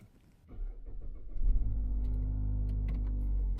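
A car engine starts and settles into a steady, close idle-to-drive hum as the driver pulls away, rising in loudness after a quiet opening with a few small interior knocks.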